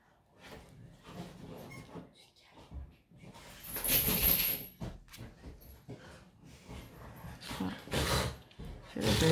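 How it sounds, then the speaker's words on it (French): A dog playing with a child indoors: scattered scuffles, thumps and brief yelping bursts, fairly faint and irregular, with soft voices now and then. "Je suis désolée si vous entendez des bruits bizarres. C'est ma fille qui joue avec le chien."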